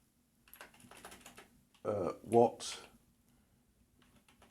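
Single-handed typing on a computer keyboard, a few bursts of close clicky keystrokes separated by pauses, with someone talking around them.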